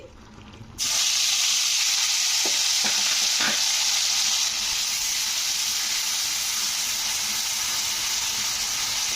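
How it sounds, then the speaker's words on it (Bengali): Onion paste fries in hot cooking oil for a tilapia curry. It gives a loud, steady sizzle that starts suddenly and continues unbroken, with a few light stirring clicks early on. "পেঁয়াজটাকে একটু লাল লাল করে তেলের মধ্যে ভেজে নিতে হবে"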